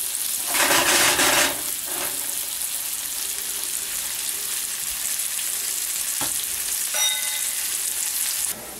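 Food fries and caramelizes in a pan over medium-high heat, giving a loud, constant sizzle with a burst of stirring early on and a few clicks of utensils against the pan.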